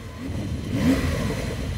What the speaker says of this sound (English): So the exhaust sounds amazing.